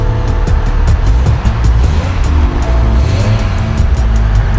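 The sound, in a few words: V10 sports car engine revving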